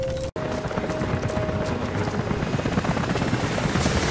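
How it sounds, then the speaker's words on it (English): Helicopters approach in the video game Rise of the Tomb Raider, a loud, steady rapid rotor chop with engine drone that fills the whole stretch after a brief cut near the start, with no voices over it. "helicopters are headed your way."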